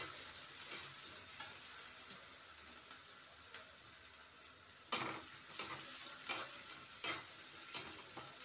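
Onion hitting a hot pan of oil for a spicy village-style palak paneer, a soft steady sizzle with a handful of sharper crackling bursts and stirring scrapes in the second half, close and moderately quiet.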